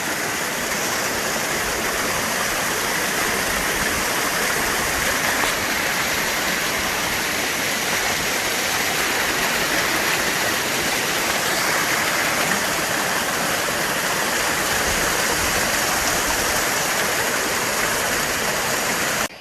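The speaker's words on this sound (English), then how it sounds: "I didn't expect to see any waterfalls" A waterfall on a hiking trail pours in a loud, unbroken roar of rushing water, steady and close throughout with no other sounds rising above it.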